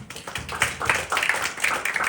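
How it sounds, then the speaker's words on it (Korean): An audience in a church worship-team seminary hall claps for the sound booth team, a scattered burst of hand claps that builds into a brief, steady round of applause. "우리 박수 한번 쳐줘야 돼, 진짜"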